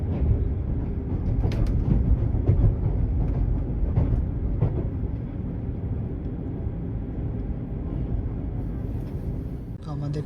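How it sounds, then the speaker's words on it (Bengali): The Howrah–Kamakhya Vande Bharat sleeper train runs near New Farakka Junction, heard from inside as a steady low rumble with some rattling and occasional clicks, continuous and moderately loud throughout. "আমাদের ট্রেন কিন্তু এন্টার করে গেল নিউ ফারাক্কা জাংশনে।"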